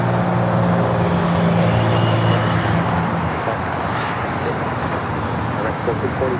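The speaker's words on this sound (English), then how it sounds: "This is a Cessna Citation Longitude that we're looking at right now." A Cessna Citation Longitude business jet at LAX rumbles and whines steadily nearby, its engine noise strong at first and then easing into a broad roar, with faint voices underneath.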